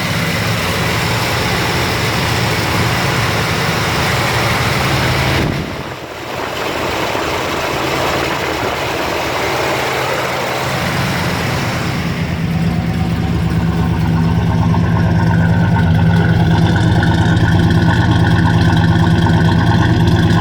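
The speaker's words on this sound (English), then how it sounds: "Exhaust sounds good, don't hear any unusual misses. Nice little rumble." A 1969 Chevrolet El Camino SS big block 396 V8 engine catches and settles into a steady, deep idle rumble after a stretch of broad rushing noise, close and constant.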